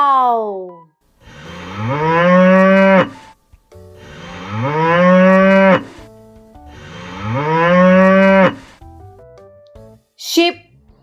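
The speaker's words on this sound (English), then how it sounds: "cow," A cow moos three times in long, loud, drawn-out calls that rise in pitch, with brief gaps between them and a short high sound at the end.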